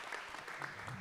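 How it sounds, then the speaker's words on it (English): At a startup pitching competition, an audience keeps up a brief, steady patter of applause, soft and somewhat distant, with no voice on top. "Big applause for Nikki."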